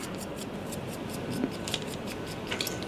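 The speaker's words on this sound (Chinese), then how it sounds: "把相机这边的螺丝也拆一下" Small screws are turned out to free the gimbal camera of a DJI Air 2S drone, giving soft, faint scraping and ticking at close range against a steady hiss, with no talking.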